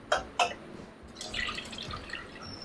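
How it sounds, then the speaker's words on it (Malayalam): Milk is poured into a pan for bread and dates toast: two sharp drips or splashes open it, then a softer, quieter trickle of liquid follows, with no talk. "നമുക്ക് ഇതിലേക്ക് നമ്മുടെ മിൽക്ക് ഒഴിക്കുന്നു"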